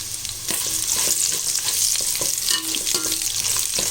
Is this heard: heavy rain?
no